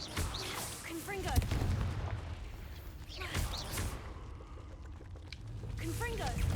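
In the Hogwarts Legacy video game, Confringo fire spells go off as sharp explosive bursts with crackling blasts, recurring several times, mixed with game effects and a player talking over them.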